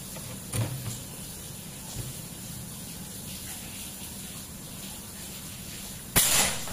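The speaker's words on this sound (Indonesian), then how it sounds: "Tembakan kedua dengan track 2 juga." Sharp, loud report of a PCP air rifle shot at a brick, a classic big-game build with a 50 cm Yumaja barrel and 4000 psi, coming after several seconds of quiet background noise with faint small knocks.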